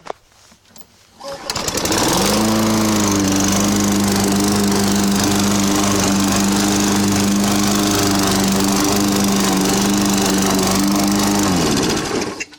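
Used Toro Recycler Personal Pace lawn mower starting up after a quiet moment, then its engine roaring loud and steady close by for about ten seconds before cutting off.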